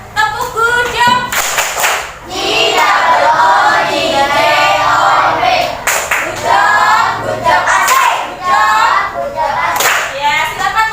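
A classroom group doing a rhythmic patterned 'tepuk' clap, loud and close, with repeated bursts of many hands and children's voices chanting along through the routine.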